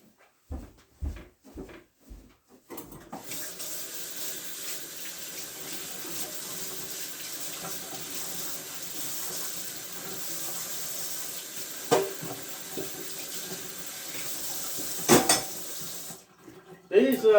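Tap water runs steadily into a kitchen sink as mixer beaters from a pumpkin custard pie are rinsed, with a few clinks and knocks against the basin and a brief clatter near the end.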